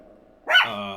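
A little dog gives one sharp, close bark after a moment of quiet low murmur, the note ringing on briefly.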